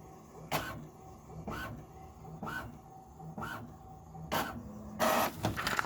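An HP Envy 4500 inkjet printer prints a page up close, with a regular series of whirring carriage passes about a second apart, quiet motor hum between them, and a louder paper-feed rustle at the end.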